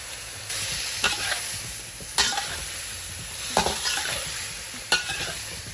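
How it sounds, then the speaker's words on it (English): Beef and broccoli fry in a hot pan under a steady sizzle, with four or five distinct stirring strokes scraping through at roughly one-second intervals. "Just give it a quick stir for 30 seconds or so."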